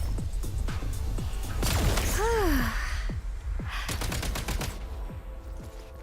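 A laser weapon in Genshin Impact fires rapid, repeated sharp bursts with recoil thumps, mixed with a swooping, warbling laser tone in the middle and dense game effects, loud and busy throughout.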